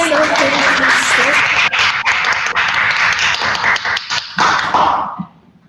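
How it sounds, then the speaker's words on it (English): Applause from an audience at an international seminar on wayang performance, following a presentation: steady dense clapping for about five seconds that cuts off abruptly, with brief talk at the start. "thank you so much for the generous applause for Miss Dewi's presentations"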